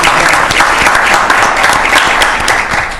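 A room full of people at a city council meeting breaks into loud, sustained applause, a thick wall of clapping that holds for three seconds and starts to fade at the very end.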